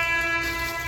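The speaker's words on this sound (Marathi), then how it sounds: "रेल्वे गेली ना" A train going by, heard as a steady, loud rumble with a sustained tonal hum throughout, rolling on without a break.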